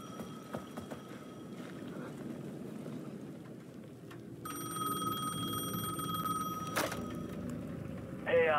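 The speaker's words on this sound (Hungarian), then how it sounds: "The payphone at the edge of the plaza was ringing again." A payphone rings in the video game Alan Wake 2, its bright electronic tone entering halfway through over a low ambient rumble and holding steady before a final louder chirp at the end.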